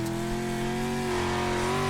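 A street stock race car at Crandon revving on the dirt track, engine tone climbing and holding in a loud, close on-board whine for a couple of seconds.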